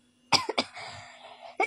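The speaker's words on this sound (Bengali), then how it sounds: "ঠান্ডা লেগে কাশি 2 সপ্তাহ ধরে" A person with a cold who has been coughing for two weeks lets out a few close, harsh coughs, separated by short pauses with a lingering rasp between them.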